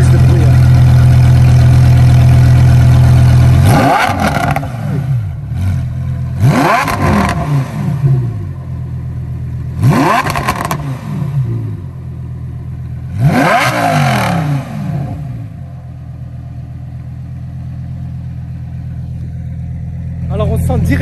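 Repeated sharp throttle blips from a Lamborghini Huracán STO V10 through a titanium exhaust: steady idle, then four loud revs that spike and fall, spaced a few seconds apart, close up, with voices in between.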